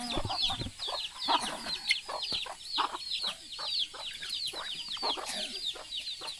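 Chickens cluck and chatter around a rural Lao village, a busy layered mix of short repeated calls from several birds at moderate distance, with no talking.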